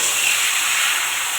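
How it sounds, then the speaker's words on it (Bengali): Crab pieces added to hot oil for a crab curry, a loud, close, continuous hissing sizzle with no breaks and no voices. "তেলটা গরম হয়ে গেছে, এবার কাঁকড়াগুলো দিয়ে দেবো।"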